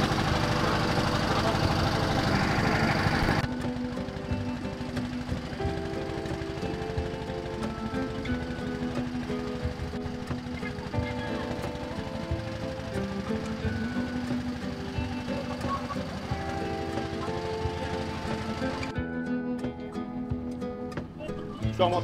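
A river trawler boat's engine on the Buriganga drones at a steady low throb under the scene, with faint voices and water noise mixed in.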